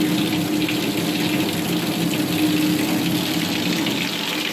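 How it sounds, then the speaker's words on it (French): Steady rushing water, close and continuous, consistent with a river flowing just below or with nearby spring water pouring out, with no voices over it. "La rivière qui passe juste en bas."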